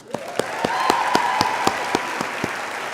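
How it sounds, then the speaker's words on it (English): Audience applause at a University of Guelph OVC ceremony and awards program, with a steady wash of clapping from the crowd and a few sharper, closer claps standing out in a loose rhythm. "one last applause for Patrick Bolsterley"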